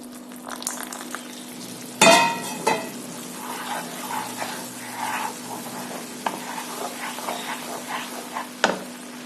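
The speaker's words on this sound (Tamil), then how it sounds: "இப்போ இந்த சுகர் சிரப்பை கடலை மாவுக்குள்ள ஊற்றி கிளறணும்." Sugar syrup is stirred into gram flour for Mysore pak in a pan off the heat, with steady scraping strokes, soft bubbling and two sharp clanks against the pan.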